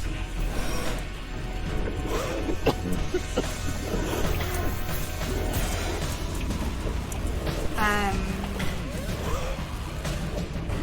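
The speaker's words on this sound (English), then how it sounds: "we turn on this cosmic dust and debris." Cosmic dust and debris sound effect from a tabletop sound set: a dense, continuous patter of small crackling impacts like hail, with scattered ticks and rattles and a brief swept chirp, steady and loud throughout with no speech.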